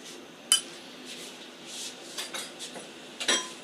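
A spoon clinks against a pot while kadhi pakoda ingredients with salt and red chili powder are stirred, giving a few sharp metallic taps among soft scraping, close and fairly quiet.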